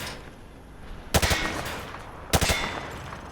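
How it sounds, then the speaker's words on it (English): Two short bursts of rapid gunfire at range targets in Modern Warfare 2, each a quick cluster of loud close shots separated by about a second of quieter background. "Grab that weapon off the table and fire at the targets behind you."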